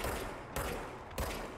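Enemies in the game Control fire guns in a few separated bursts, two stronger volleys and a third starting at the end, fairly faint under a steady rumble.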